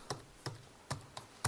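Five distinct keystrokes tap on a computer keyboard at an uneven pace, close and quiet, with no voices.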